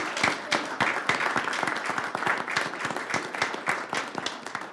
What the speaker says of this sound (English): let's give your families a round of applause.